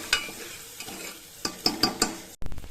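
A spoon stirs coconut and turmeric over a low flame, scraping the pan in soft strokes broken by several sharp metallic taps, then a brief gap before a louder sizzling scrape, close and with no voices.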